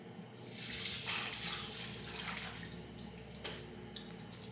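Two cups of water poured over uncooked rice in a pot for homemade dog food, a steady close trickle and splash that fades after a few seconds, ending with a small drip or clink.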